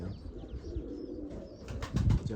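A pair of turtle doves take flight outdoors, with a short burst of wing flapping near the end over faint bird calls and low background noise.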